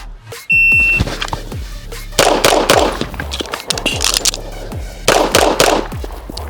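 A Beretta 92Xi Squalo pistol fires in rapid strings of loud, sharp shots, starting with a shot-timer beep, then a burst, a brief pause for a reload, and another burst, all close and punchy.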